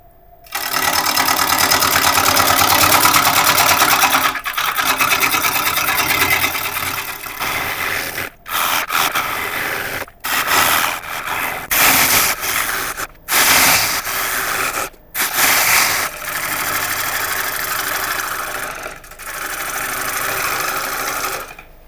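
A wood lathe spins a rotten log at over 600 RPM while a tool cuts into it, giving a loud, sustained whirring scrape broken by several brief pauses and restarts between cutting passes.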